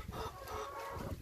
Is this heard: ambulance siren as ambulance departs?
no